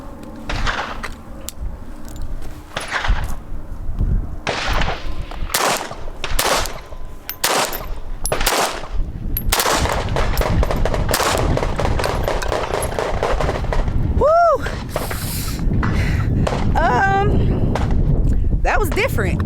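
.380 pistol shots fire downrange at an outdoor range, several sharp loud cracks in an irregular string, with people talking between and after the shots.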